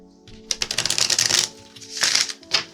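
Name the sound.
tarot cards being shuffled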